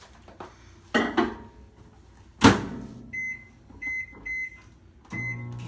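A microwave oven is worked: door and lid clunks, a button press, then short repeated electronic beeps with a low running hum behind them, close and clear, no talking.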